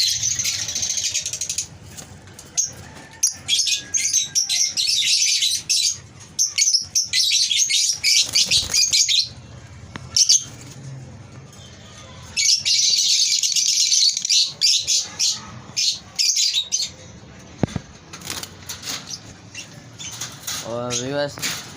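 Breeding pairs of lovebirds chirp in a cage in busy bursts of shrill, rapid chatter, separated by quieter gaps with rustling and faint scratching movements.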